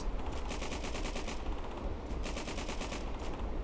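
Gunfire in the World War II shooter Day of Infamy, set at Normandy: rapid automatic bursts rattle in two long volleys with a short gap between them, loud and dense over a constant battle rumble.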